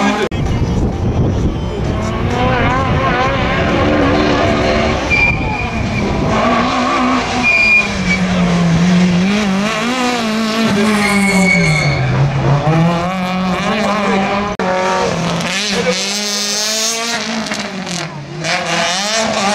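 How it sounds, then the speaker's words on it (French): A V8 race car at the Saint-Lô slalom event roars loudly, revving and accelerating through gear changes with rising and falling engine pitch, as a commentator talks excitedly over it. "C'est un V8 cylindres. avec des gros sons qui sont là"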